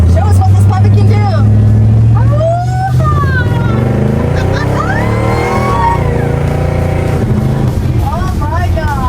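A 1955 Ford Crown Victoria drives off, its engine droning loud and low from close by and pulling steadily as it gains speed, while voices talk and exclaim over the running motor.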